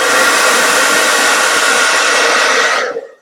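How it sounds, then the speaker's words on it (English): A hair dryer blows loudly and steadily up close, a constant whooshing whir that cuts off abruptly at the end. "I get my hairdryer and"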